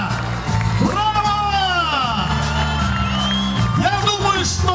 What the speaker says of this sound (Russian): Сейчас должны быть уже точно громкие аплодисменты